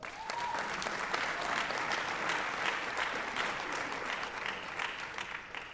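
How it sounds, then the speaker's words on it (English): Audience applause at a school district board of trustees meeting honoring a retiring employee, a sustained, even round of many hands clapping, moderately loud from start to finish. "Let's get another round of applause."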